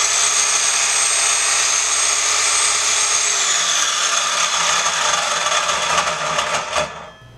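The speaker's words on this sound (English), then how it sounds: "This is my GMC MS190 Mitre Saw." A GMC MS190 mitre saw with a 190mm blade and suspected worn bearings or gears runs with a loud, harsh whine and grinding rattle, then begins winding down toward the end.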